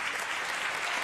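Crowd at a partially sighted football match between Italy and Spain applauds as an injured player is stretchered off, a brief, steady wash of clapping from the stands.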